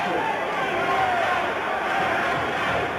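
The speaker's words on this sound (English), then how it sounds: "The chant of USA goes up from the crowd here at the Indian Center." Wrestling crowd chanting USA inside the Indian Center arena, a dense, continuous roar of many voices filling the room at steady loudness, with no other sound rising above it.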